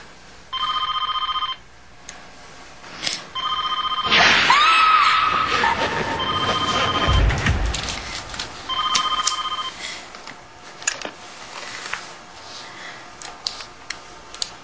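An old-style telephone bell rings in repeated bursts, about four rings with gaps between them, close and fairly loud in a quiet room, with some rustling and movement in between.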